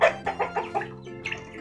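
Young free-range village chickens, about six to eight weeks old, cluck in a rapid run of short, close calls while feeding, several bursts in a row with a brief pause before a final pair.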